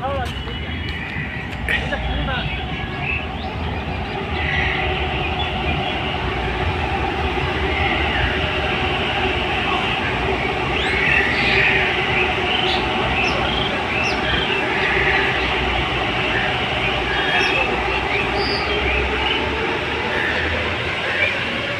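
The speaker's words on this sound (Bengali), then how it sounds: "মেট্রো আসছে" A Kolkata metro train runs past Subhash Sarovar lake at Beleghata, a continuous rumble with faint rail clatter that rises slightly toward the middle. People talk over it throughout.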